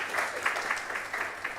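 Steady audience applause at a genomic medicine building ceremony, a brief dense patter of many hands clapping at moderate loudness with no pause.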